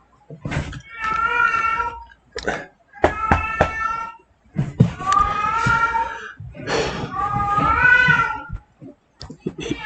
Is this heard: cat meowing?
yes